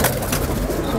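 A domestic pigeon gives a short, close, throaty coo.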